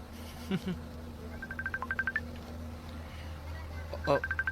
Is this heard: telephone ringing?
yes